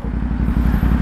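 A CFMOTO 450SR sportbike engine revving hard at full throttle, a loud, steady, close-up roar with a dense rapid pulse and slight wavering as the revs climb.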